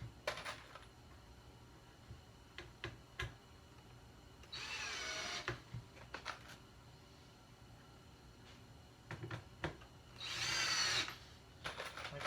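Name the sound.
power drill driving screws with a star bit into wood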